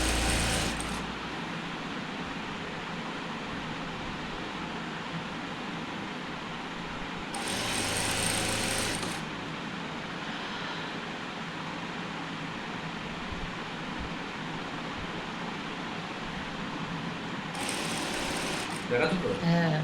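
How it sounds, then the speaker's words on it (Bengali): A sewing machine runs long straight seams on a nighty with a steady mechanical whir, broken by two louder hissing bursts and another at the very end. "দেখুন আমরা সেলাই দিচ্ছি, দেখে নিন"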